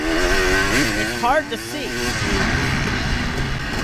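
Off-road racing motorcycle in a GNCC pro race in the woods, engine revving with rising and falling pitch as the throttle is twisted, close and loud under a voice.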